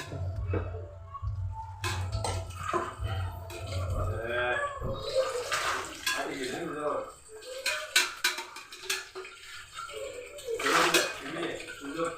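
Moong dal halwa being stir-roasted in a pan, with repeated scraping and clattering of a utensil against the pan, a low hum early on, and some talk in the background.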